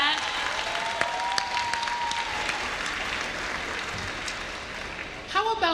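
An audience at a university new student convocation breaks into applause and cheering, a broad wash of clapping that fades gradually before a voice speaks at the end.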